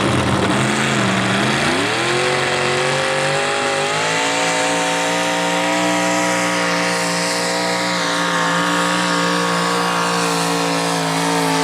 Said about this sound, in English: So Jim built the consistent mini tractor. Alcohol injected 454 in this hot rod.